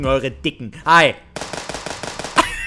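A machine gun rattles in a Five Nights at Freddy's shooting game as a steady rapid burst in the second half, after a stretch of excited speech.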